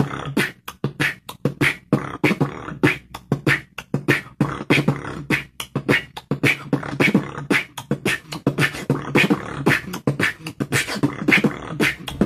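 Beatboxed drum and bass beat, a voice imitating fast kicks, snares and hi-hats in a steady, driving rhythm for the whole stretch, close and loud with no other sounds.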